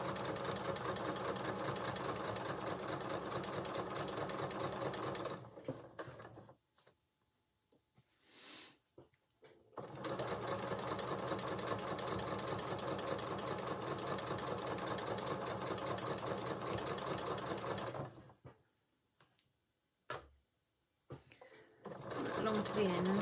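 Home sewing machine running a straight stitch along a dress seam, steady fast whirring in two long runs separated by brief pauses, close and fairly loud.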